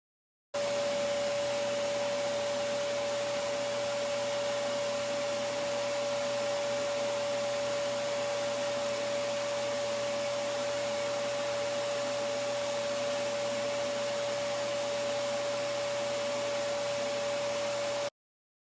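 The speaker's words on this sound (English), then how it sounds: "audio using the same cell phone directly from the Auric air vacuum device while a clog is present in the system" Auric Air vacuum device running with a clog blocking its airflow, a steady, unbroken whooshing hum with a fixed whine, recorded up close by a cell phone and holding level for the whole stretch with no talking.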